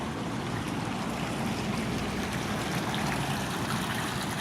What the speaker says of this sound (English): chucking water nicely into the paddling pool